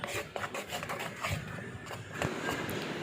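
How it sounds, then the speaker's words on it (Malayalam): A spoon stirs and scrapes through dry flour mixed with baking powder and salt in a bowl, making continuous soft, close gritty rubbing with faint scraping strokes. "നന്നായിട്ട് സ്പൂൺ വെച്ചിട്ട് നന്നായിട്ട് ഈ പൊടി ഒന്ന് ഇളക്കി യോജിപ്പിച്ചെടുക്കുക"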